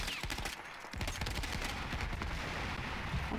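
Dense bursts of automatic machine-gun fire and rifle shots in the World War I video game Battlefield 1, crackling continuously and loud, with no voices.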